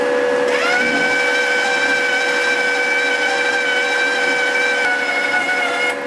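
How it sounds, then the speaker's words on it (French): A steady mechanical whine with a sustained hum runs throughout as a MIG welder feeds wire through its torch, loud and close with no voices. "je bouge le bouton pour aller sur la position MIG et ensuite je fais avancer le fil dans la torche"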